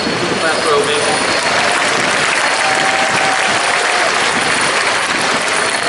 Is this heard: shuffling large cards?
no